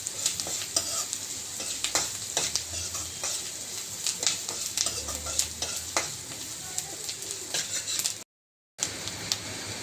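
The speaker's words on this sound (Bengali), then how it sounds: "পেঁয়াজটা একটু ভাজা ভাজা করে নিচ্ছি।" Onions with a pinch of asafoetida frying in a pan, a steady hiss of sizzling oil broken by frequent scraping strokes of the stirring spoon, with a brief dropout near the end.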